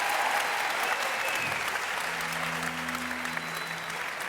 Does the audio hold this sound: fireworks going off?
no